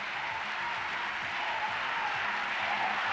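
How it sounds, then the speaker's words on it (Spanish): A stadium crowd at the opening ceremony of the 1996 Alpine Ski World Championships in Sierra Nevada stands and applauds the Spanish team. The ovation is a dense, steady roar of clapping that sounds distant and fills the whole stretch. "Todo el estadio está de pie aplaudiendo y recibiendo a la selección española."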